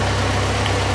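A 1981 Alfa Romeo Spider Veloce engine idles a little high, near 1,000 RPM, with a loud, steady, close mechanical drone and an even low pulse throughout.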